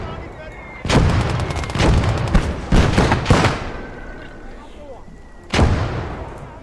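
Mortar and artillery fire in the World War II game Blood Red Snow, a burst of heavy booming blasts in quick succession followed after a pause by one more loud boom, with lingering rumble between them.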